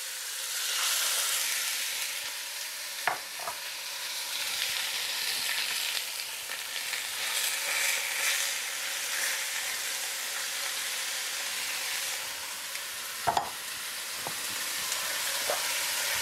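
Beef sears in hot oil in a pan, a loud, continuous bright sizzle and crackle close by, with a couple of sharp clicks of utensils; no talk.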